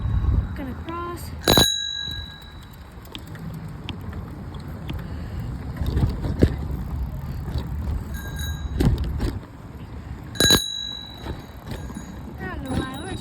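Several bicycle bells ring out during a bumpy ride through a park, with sharp dings scattered among the rumble of wheels and wind and a person talking nearby.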